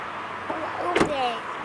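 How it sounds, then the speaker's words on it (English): A car door being shut in a parking area: a single solid thump near the middle, surrounded by faint rustling, a brief squeak and soft voices in the background. "Okay, let's shut the door."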